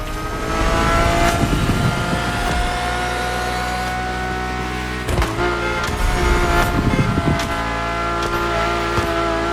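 A Ferrari engine revs hard in the racing video game The Crew Motorfest, a loud, sustained, steady roar that drops out briefly near the middle and then surges back, with no talking over it.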